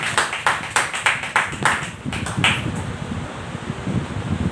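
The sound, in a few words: congregation applauding loudly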